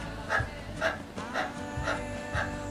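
Rhythmic panting breaths imitating a dog, done as breath of fire yoga breathing in a Kundalini yoga class, with about five evenly spaced huffs over a steady background.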